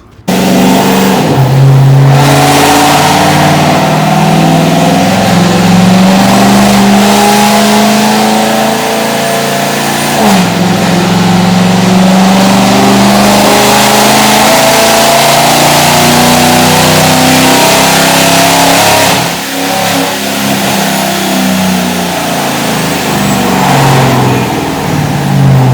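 A heavily modified widebody Dodge Charger R/T on a dyno, with straight-pipe exhaust and no mufflers or resonators, revs loud and close, its pitch climbing in long sweeps and then dropping back.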